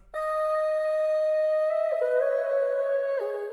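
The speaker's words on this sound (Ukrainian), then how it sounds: "Додається ще в нас вокальний луп" A sustained synthetic vocal tone plays on its own, a held sung note that steps down in pitch twice before fading.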